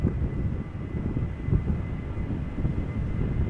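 A TUI airliner lines up at Amsterdam Schiphol Airport, heard as a steady, distant low engine rumble with a faint whine, heavy and unbroken, with no voices.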